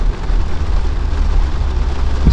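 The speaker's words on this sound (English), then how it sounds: "That rain is starting to dump." Heavy thunderstorm rain drums steadily on a vehicle driving an off-road trail, a dense constant wash with low engine rumble underneath and a louder thump near the end.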